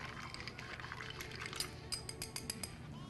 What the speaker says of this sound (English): Give it about a good 30 stirs.